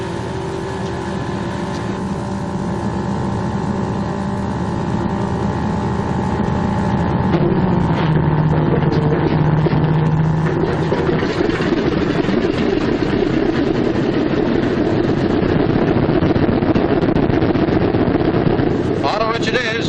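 A Martin B-26 Marauder radial engine cranks and fires, a loud, continuous rumbling drone that shifts and builds partway through and holds steady under heavy wind-like noise.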